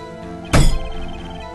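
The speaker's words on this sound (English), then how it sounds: "Just gotta bang on the desk." A single loud, sharp desk-bang thump from the Phoenix Wright: Ace Attorney courtroom game hits over a soft background music bed, then fades quickly.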